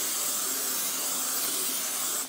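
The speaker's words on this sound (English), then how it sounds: "let's spray it with some Pam." A continuous soft hiss of cooking oil aerosol spray onto a pan, steady for a couple of seconds before cutting off.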